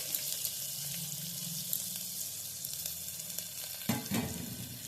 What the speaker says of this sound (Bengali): এই পেঁয়াজ কুচিগুলো এর মধ্যে দিয়ে দিচ্ছি